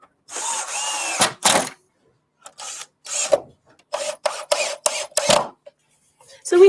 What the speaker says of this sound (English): Always drill before you screw bamboo to stop your screws slipping out of position.